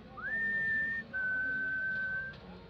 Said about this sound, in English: whistled up to the second floor windows, hoping to get his girlfriend's attention